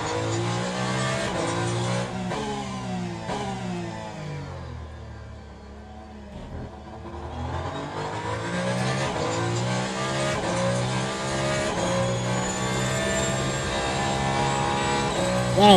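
A hypercar engine racing in Le Mans Ultimate at COTA: a steady, droning engine tone whose pitch sweeps up and down through gear changes and throttle lifts, easing off midway before climbing back to a sustained, loud run.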